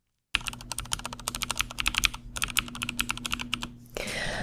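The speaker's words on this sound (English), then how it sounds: "The keyboard clicks" AI-generated ASMR keyboard clicks from Veo 3: rapid, crisp key taps in a close, continuous typing rhythm, ending with a brief soft hiss.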